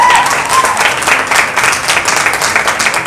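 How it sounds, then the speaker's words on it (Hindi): An audience at a bridal makeup class in a salon gives Rupali a burst of loud, close, continuous clapping lasting about three seconds. "सो रूपाली के लिए बहुत जोरदार ताली"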